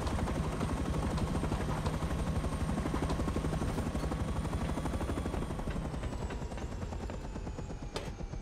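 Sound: map helicopter in the video game Rust

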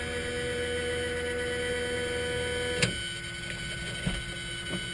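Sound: Enstrom F-28F helicopter fuel boost pump running

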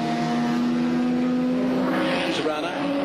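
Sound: Holden Torana A9X race car passing at Bathurst

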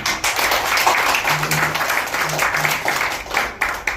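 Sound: applause at a year-end ceremony

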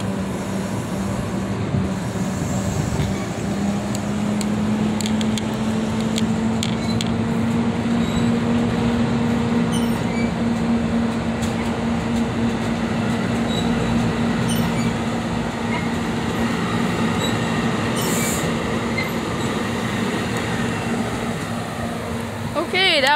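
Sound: NJ Transit train 5527 departing Bound Brook station

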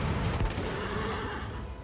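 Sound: horse neighing in the video game Heroes of the Storm

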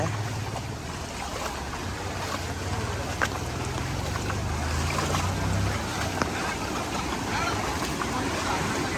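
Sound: floodwater from paddy field flowing forcefully over road

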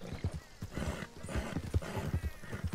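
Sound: horse hooves in video game Red Dead Redemption 2

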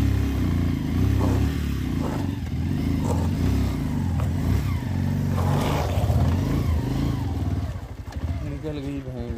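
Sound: Pulsar 125 motorcycle riding on a bad road

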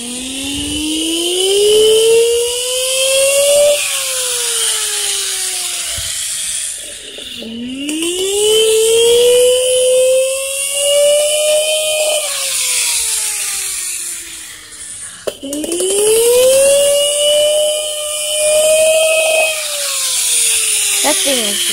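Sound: toy siren

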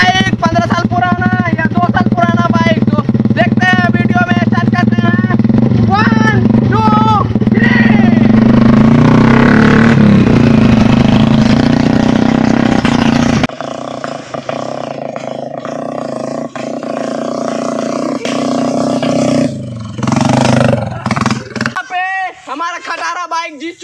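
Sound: Bajaj 125 and Hero Splendor Plus motorcycles racing

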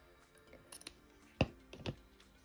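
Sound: scissors trimming hair bow ribbon

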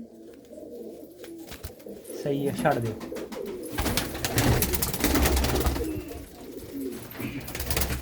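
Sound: pigeons cooing

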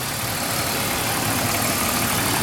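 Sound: 2002 BMW 325 inline six-cylinder engine running

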